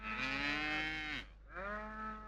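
Buffaloes being driven along in the early morning low twice in long, loud, close moos, with a short break between the calls and no voices.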